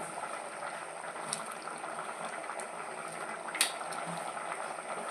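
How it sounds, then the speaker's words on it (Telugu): Dal (lentils) bubbling steadily in a pot, a continuous close boiling hiss with a couple of brief louder pops. "ఇదిగోండి పప్పు బాగా ఉడికిపోయింది"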